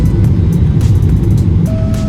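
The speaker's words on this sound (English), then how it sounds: "The plane is landing." Air France airliner landing, heard from inside the cabin as a steady, loud low rumble of engines and airframe with a faint tone appearing near the end; no talk.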